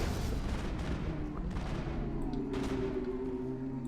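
Gunfire in the Mass Effect video game: steady crackling shots with a few heavier bursts over a dense, continuous battle rumble, loud and close throughout.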